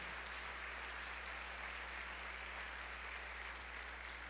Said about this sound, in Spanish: Le puede dar otra vez un fuerte aplauso a Jesús.